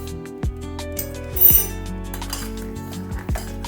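A spoon clinks against a glass while stirring beetroot buttermilk mixed with ginger-chili paste and a little sugar: a few sharp, separate clinks spaced over several seconds, with steady background music underneath.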